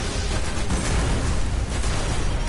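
Explosions in the video game Destiny, a dense continuous roar of booming blasts filling the whole clip, loud and close with no pauses.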